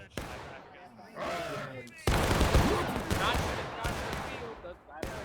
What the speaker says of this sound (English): Volley coming in there from HL